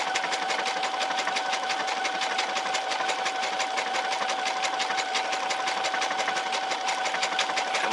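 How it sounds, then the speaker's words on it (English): A Brother SE630 sewing and embroidery machine stitching a micro stippling pattern, with a fast, even needle chatter and a steady motor whine running unbroken and loud throughout. "And this is the micro stippling stitch."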